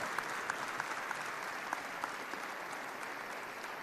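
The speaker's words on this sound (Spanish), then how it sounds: "ustedes lo saludan con un fuerte aplauso" Steady applause from an audience, moderately distant and even throughout, with a few sharper claps standing out and no voices over it.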